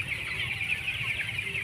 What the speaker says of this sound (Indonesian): Ayam umur 18 hari.